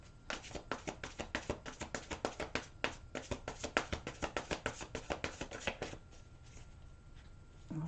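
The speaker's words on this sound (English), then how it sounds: "Okay, last shuffle for Aries." Rapid riffle shuffles of a card deck, a quick rhythmic flutter of snapping cards repeated many times, close and crisp, then quiet.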